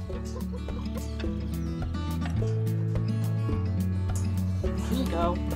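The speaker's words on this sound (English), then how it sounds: "It's time for these pheasants to start nesting." Exotic pheasants cluck and call repeatedly at close range in a farm pen during spring nesting, the bird calls mixed with a steady background hum and some shuffling.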